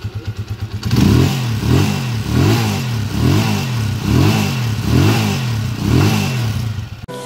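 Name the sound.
200cc converted motorcycle engine revving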